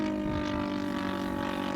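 A newer engine on a 1/4 scale Hurricane model airplane, running at a steady even drone with strong harmonic whine, close and continuous with no talk.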